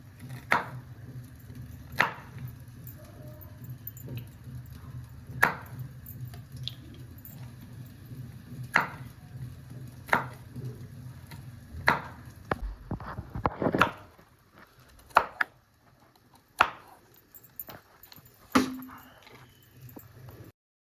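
Knife chopping raw pumpkin into long vertical pieces for homemade bhopla kheer, a series of sharp, close thuds on a board at irregular intervals, several knocks in quicker succession near the end, no talking.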